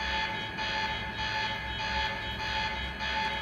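A steady electronic alarm tone drones in the video game Quantum Break, pulsing slightly about every half second, loud and continuous with a low rumble beneath and no talk.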